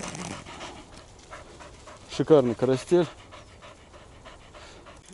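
Hunting dogs pant in quick, rhythmic bursts after a corncrake hunt in a field, heard close for about a second. A person speaks briefly over a quiet outdoor background.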